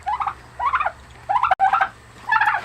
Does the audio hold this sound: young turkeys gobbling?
yes